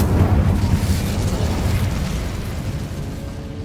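An Incendio fire spell in a wizarding video game makes a loud, billowing burst of flame that roars steadily with a low rumble, tapers over a few seconds and ends in a sharp pop, with no talk.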